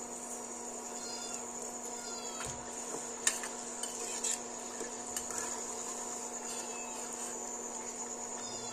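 Wheat-flour gavvalu frying in hot oil give a faint, steady sizzle. Occasional light clinks of a utensil sound against the pan.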